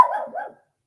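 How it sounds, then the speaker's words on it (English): A single short dog bark, close and sharp, ending abruptly into silence. "Worried about my dog barking this time."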